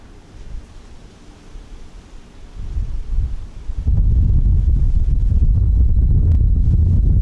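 Wind buffets a microphone with low rumbling noise that grows stronger midway, becoming a loud, steady roar of gusts.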